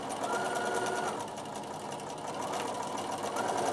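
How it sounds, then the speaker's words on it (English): A sewing machine back stitches through fabric, its needle running in a steady fast whir at close range with a slight change in pace midway. "Now I am going to back stitch and sew to the end."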